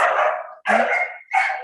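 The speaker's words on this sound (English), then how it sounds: "I apologize for the barking, we're in classes" Dogs bark at a dog training class, three loud, close, harsh barks in quick succession with short gaps between them, and no talking.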